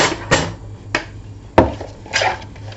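Film strips for a photographer mini album are trimmed by hand: a few separate sharp cutting clicks and snips, close and fairly quiet, spaced irregularly with a soft background hum.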